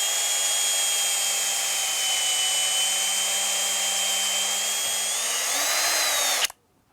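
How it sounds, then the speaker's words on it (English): A power drill with a 7/64 drill bit whines steadily at high speed for several seconds, its pitch rising slightly near the end before it abruptly stops. "I think I'm going to use a 7/64 drill bit for this."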